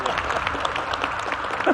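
Fans clapping at a ministers' briefing for Ulsan citizens, a dense, steady patter of applause from a crowd, heard briefly.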